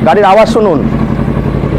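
A used motorcycle with about 20,000 km on it idles with a steady low rumble close by, after a person's brief voice at the start.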